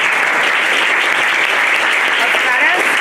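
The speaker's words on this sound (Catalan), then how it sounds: "Ara vosaltres, bueno, aplaudiment" Audience applause closing a children's theatre showcase, a dense, steady patter of many hands clapping close by and filling the room without pause.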